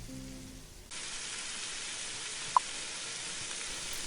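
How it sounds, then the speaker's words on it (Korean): Bacon sizzling in a pan, a dense steady crackle and hiss that sounds like rain, starting abruptly after a brief quiet moment. "베이컨 굽는 소리를 녹음한 것이죠"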